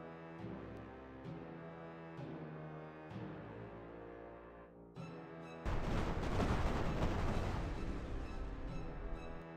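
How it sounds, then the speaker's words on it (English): Deep booming explosions in a sci-fi space combat game, a run of separate resonant blasts with ringing tails followed by a louder, sustained rumbling burst. "now you can see all the explosions coming on here"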